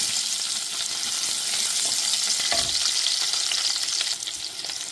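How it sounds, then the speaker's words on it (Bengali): Garlic slices and chopped onion frying in oil with a bay leaf, a loud continuous sizzle with stirring scrapes and a brief clatter midway, fading slightly at the end. "দিয়ে দিব কয়েক ফলি রসুন, দিয়ে দিব অল্প পরিমাণে পেঁয়াজ কুচি,"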